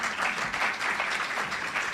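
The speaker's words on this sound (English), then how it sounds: "Give him a round of applause." A university event audience applauds in a dense, steady burst of clapping that fills the room at a close, even level throughout.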